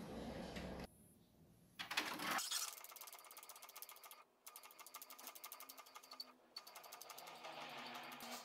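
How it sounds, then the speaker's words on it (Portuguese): An Epson L3375 ink tank printer prints a page, giving a quiet run of rapid mechanical ticking and whirring, with short pauses and shifts as the print head travels and the paper feeds. "Dou ok e vou imprimir novamente."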